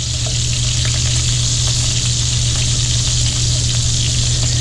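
Shrimp and sausage browning in a Cuisinart skillet make a loud, continuous, even sizzle heard up close, with faint pops and crackles scattered through it and no talking.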